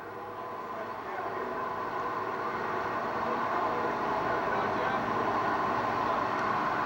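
A 1972 Ward LaFrance 1,000-gallon pumper fire engine rolls along in a 1988 South Windsor, Connecticut volunteer fire department anniversary parade, its engine giving a steady, even rumble that swells a little as it nears.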